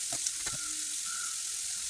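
Chopped onion dropped into hot oil with popped mustard seeds, frying for a squid roast, gives a steady close sizzle with a few brief clicks of stirring.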